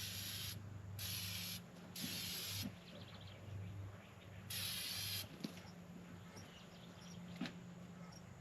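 Short bursts of aerosol ether sprayed into the intake of a long-parked IH 1468 tractor, four loud hissing blasts of about half a second to a second each, over a steady low idle hum from a nearby engine.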